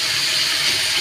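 Leftover spice water poured into a hot pan of cooking dhoka spice paste, giving a brief, loud, steady rush of hissing, splashing liquid.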